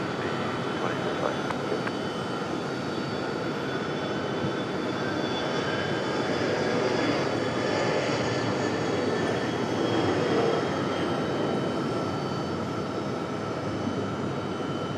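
A jet airplane roars steadily on the runway at Raleigh-Durham International Airport, a loud, broad engine rumble that holds for the whole stretch.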